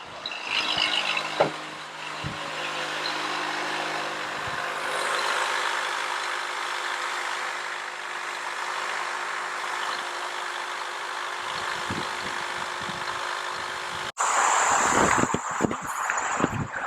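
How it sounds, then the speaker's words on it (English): Honda Element engine idling steadily after being started, a constant mid-pitched hum held at an even level for about fourteen seconds, then louder handling noise close to the recorder. "let's start this car up."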